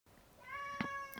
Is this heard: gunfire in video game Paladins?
no